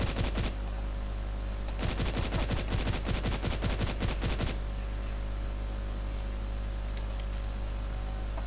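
Pistol fire in the shooter game Blockade 3D, heard as a brief burst of shots followed by a longer run of rapid, closely spaced cracks over a steady low background hum, after which the shooting stops.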